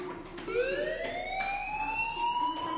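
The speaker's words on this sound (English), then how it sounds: "Hey, do you hear that fire alarm?" A school fire alarm in the video game Life is Strange wails loud and steady, its tone rising as it sustains throughout, alone with no voices.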